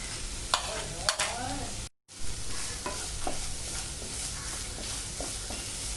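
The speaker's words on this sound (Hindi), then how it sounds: "इसको हल्की गैस पे मैं अच्छे से पकाऊंगी ताकि कांदा भी भून जाए" Carrot, capsicum, cabbage and onion sautéing in a pan on a low flame, a steady close sizzle broken by occasional stirring scrapes and one brief dropout.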